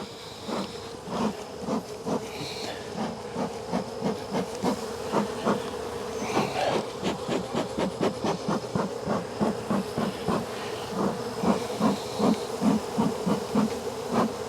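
Honey bees buzz steadily around an opened bee box during a beginner's mite check, a dense continuous hum with rhythmic thumping pulses running throughout, fairly close.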